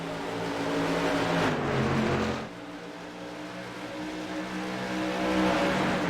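SK Modified race cars roar around the New Hampshire oval, a loud, steady engine drone that swells as a car passes near, drops briefly, then builds again with no talking.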